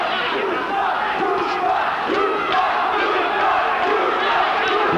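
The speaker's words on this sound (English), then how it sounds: "And the crowd now getting behind Nick Rupa." A boxing crowd in New York roars steadily for fighter Nick Rupa, a dense, sustained wall of cheering and shouting from a packed arena.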